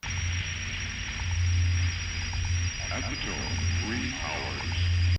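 A steady bed of hissing static and distorted noise with a constant high whine, low droning pulses and warbling electronic tones drifting in near the end, from an ambient Godspeed You! Black Emperor piece.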